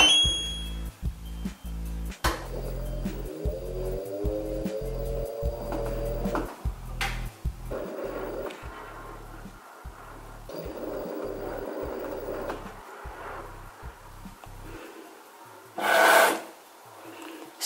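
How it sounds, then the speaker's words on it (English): A washing machine starts a laundry cycle with regular rhythmic thumps and rubbing churns close by, which stop before a short electronic beep. "I just basically let the washer run."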